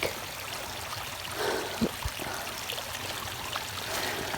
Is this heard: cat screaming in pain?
no